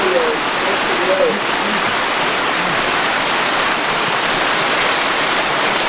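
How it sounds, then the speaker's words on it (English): Waterfall in Surprise Canyon, an old mining area in the desert, giving a steady broadband rush of falling water throughout, with faint voice fragments low in the mix. "this is the first waterfall"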